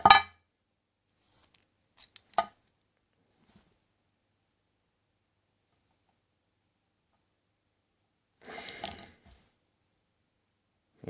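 Pliers handle thin wire while winding an RDA/RTA coil. A few sharp metallic clicks come early, then a brief rasping scrape after a long quiet stretch, close and sparse.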